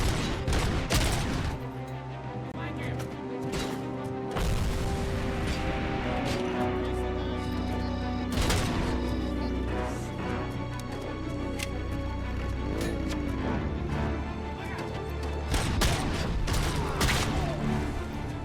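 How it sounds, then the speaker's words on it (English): Continuous video game gunfire from RoboCop Rogue City, a dense barrage of overlapping shots and bursts over a steady game soundtrack, with blasts running through the whole stretch. "who is shooting at me?"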